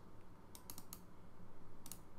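A few faint, quick computer mouse clicks, a short cluster followed by a lone click, while working in Adobe Illustrator, against a quiet background.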